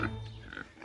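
A pig on a farm gives a short, low grunt nearby, brief and moderately loud over a faint background rumble.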